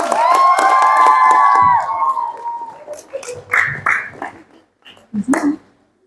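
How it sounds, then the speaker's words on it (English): Audience at a Muharram competition in Indonesia cheers and claps for a performer, a loud burst of shouting children and crowd noise that fades into scattered voices and a few later claps and yells. "Give me a applause for Chalista."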